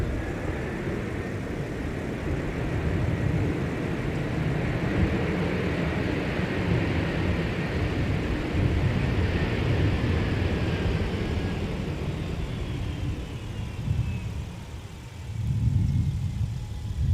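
An airliner lands and rolls out at MSP airport, a loud continuous engine roar with a faint descending whine, sustained and fairly near, dipping briefly before surging again at the end.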